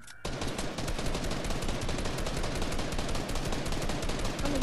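Rapid, continuous automatic gunfire from the Fortnite video game, a dense unbroken burst of loud shots running nearly the whole stretch after a brief quiet start.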